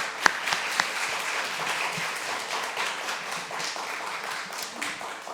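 A church congregation at a Sunday evening service claps to welcome a visiting pastor, his wife and daughter; steady, fairly soft applause from a room of people fills the whole stretch with a few sharper claps standing out near the start.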